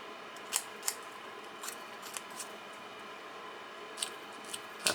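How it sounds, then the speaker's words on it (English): A handheld paper distressing tool scraping and roughing up paper edges, a series of short crisp snips and scrapes spaced irregularly over faint background hiss. "it just roughs up the paper."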